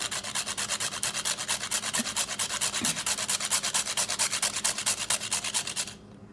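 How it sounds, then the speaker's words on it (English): Whole nutmeg scraped over a grater into a bowl of banana bread batter ingredients, a close, steady run of rhythmic rasping strokes lasting several seconds before stopping abruptly. "I'm gonna just go ahead and grate our nutmeg right into here."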